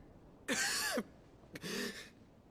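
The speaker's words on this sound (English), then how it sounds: "you're coughing up cranberry juice" A man coughing harshly in Final Fantasy XVI, two rough throat-clearing coughs separated by a short pause, close and clear over quiet background.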